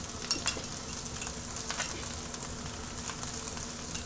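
Veg fried rice being stirred in a hot wok with chili sauce, a steady soft sizzle with light scraping and metallic clinks of a utensil, close and alone.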